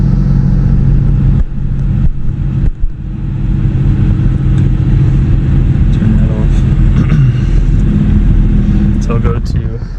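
BMW 3 Series F30 engine idling after an oil change, a steady low rumbling drone that runs throughout, with a person talking over it.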